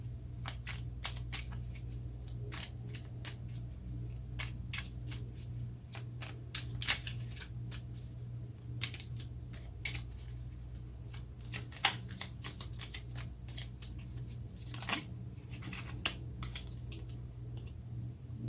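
Tarot cards are shuffled in quick riffling bursts and soft slaps, close and fairly quiet over a low hum, with no talk.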